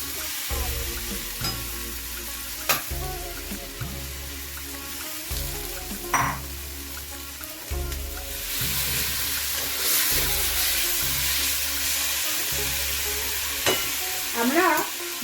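Fried cauliflower being stirred into masala in a pan for a Bengali cauliflower and katla fish curry, with steady sizzling and repeated scraping stirs and clinks of a spoon against the pan, loud and close, no talking.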